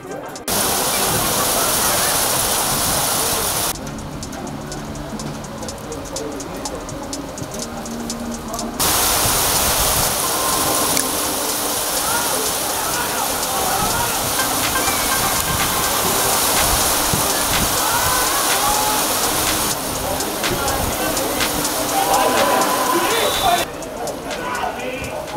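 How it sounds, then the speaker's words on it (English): Steady rain falling over an outdoor football match, a broad continuous hiss that holds throughout with brief quieter gaps, heard alone without talk. "And the rain's coming down again"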